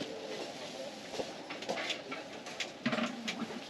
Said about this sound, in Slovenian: Ptički čivkajo, gremo.